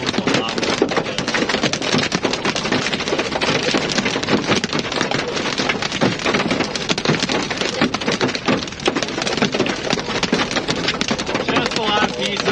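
Pea-sized hail rattles hard and fast on a storm chaser's car, a dense, loud, continuous clatter of sharp impacts with no pause.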